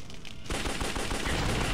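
Rapid revolver fire in the top-down shooter Larva Mortus, a dense, continuous stream of loud overlapping gunshots starting abruptly and hammering on without pause.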